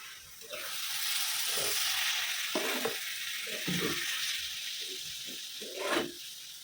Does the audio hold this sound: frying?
yes